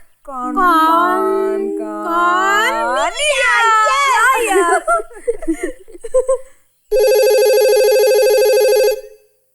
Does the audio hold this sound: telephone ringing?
yes